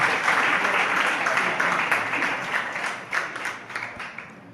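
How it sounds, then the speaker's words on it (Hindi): Audience applause at a Jain religious discourse, a steady wash of clapping held at an even level throughout, with faint voices mixed underneath. "हमारे तो ऑनलाइन भी तालियां बजती रहती"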